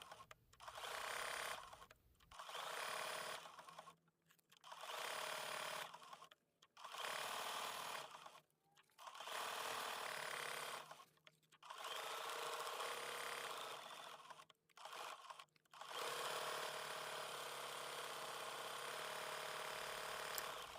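Sewing machine stitching a large fusible applique quilt block, played sped up, in repeated bursts of rapid whirring separated by short pauses.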